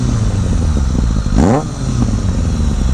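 A 2000 Kawasaki ZRX1100 motorcycle fitted with a D&D exhaust rumbles loudly up close, with one quick throttle blip rising and falling in pitch before it settles back to a deep, steady idle.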